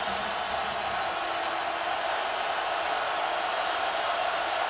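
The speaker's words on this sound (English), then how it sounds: "Crowd is roaring for a defensive stop here." A college football stadium crowd at a 2011 Utah State at BYU game roars in a constant, broad wall of noise that holds steady throughout without letting up.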